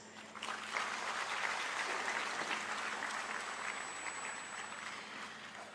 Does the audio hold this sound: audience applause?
yes